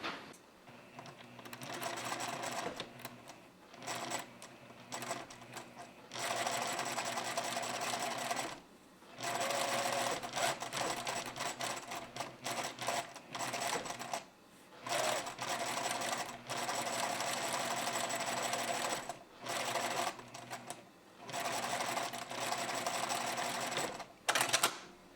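Sewing machine stitching a slash pocket's facing and pocket bag together on the inside-out fabric at a 6 mm seam, running in steady bursts of continuous whirring broken by short pauses, close and fairly loud with no talk.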